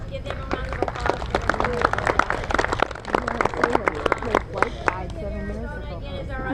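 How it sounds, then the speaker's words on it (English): A dinner crowd at a Field to Feast meal at Arizona Western College claps loudly and briskly, the applause close and dense throughout with some crowd chatter underneath. "Let's give them a round of applause."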